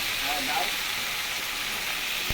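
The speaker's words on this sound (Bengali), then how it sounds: "কালো জিরে করে ভালো করে ভেজে নেবো" Taro, potato, green chilli and nigella seeds fry in hot oil with a steady, close hiss that stays even throughout, with a faint clack near the end.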